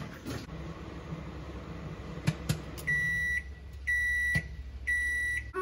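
A Samsung microwave hums steadily while making popcorn, then three evenly spaced electronic beeps ring out as it finishes, with a few clicks along the way.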